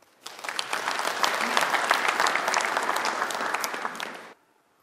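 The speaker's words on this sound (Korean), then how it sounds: "우리 박수 한번 부탁드립니다" Audience applause at a Korean regional economy forum in Daegu-Gyeongbuk, dense clapping that swells quickly, holds steady for about four seconds, then stops abruptly into quiet.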